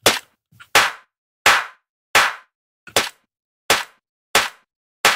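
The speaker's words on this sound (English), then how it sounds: "That's a super cool way to combine two drum samples." Eight sharp, snappy percussive hits from two drum samples cross-synthesized through the FFTexture plugin, spaced roughly every 0.7 seconds in a steady rhythm, each a bright crack with a short decay, loud and dry with no voices.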